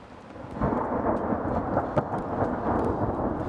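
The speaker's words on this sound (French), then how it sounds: "Il y a de l'orage et Sissi a peur de l'orage et il pleut" Heavy rain pours steadily, a rolling rumble of thunder running beneath it and a sharp crack partway through.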